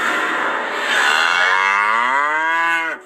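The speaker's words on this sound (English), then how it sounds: "These are the 5 red heifers out here in Shiloh." A red heifer in Shiloh gives one long, loud, close moo that rises and then cuts off sharply, with no voices around it.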